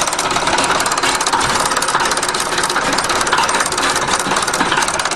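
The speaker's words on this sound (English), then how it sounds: "You can even hear the injector pump." A 1953 International bulldozer's diesel engine idles steadily at low revs with the injector pump's rapid mechanical ticking layered over its rumble, loud and close, with no voices.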